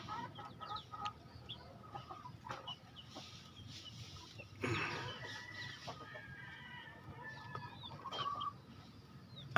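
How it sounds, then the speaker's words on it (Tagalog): Rhode Island Red chickens and chicks cluck and chatter throughout a farmyard scene, with a burst of louder clucking near the middle among scattered peeps and calls. "Rhode Island Red, itong mga sisiw."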